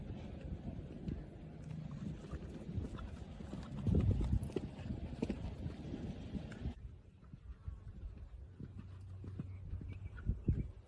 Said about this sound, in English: That horse was proud to prance in the after photos